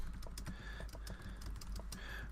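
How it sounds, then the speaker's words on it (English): Rapid, steady keystrokes on a computer keyboard, a continuous run of clicking taps with a low hum underneath and no speech. "I'm just typing him a quick note here"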